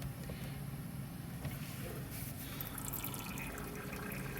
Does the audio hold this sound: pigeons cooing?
no